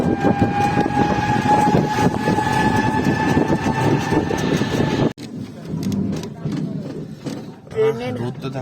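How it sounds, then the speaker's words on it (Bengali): A train horn sounds across open fields in a long, loud, steady blast that cuts off abruptly, followed by quieter outdoor rumble and a voice speaking near the end. "ট্রেনের হর্ন বেজেছে কিন্তু ট্রেন পাচ্ছি না দেখতে"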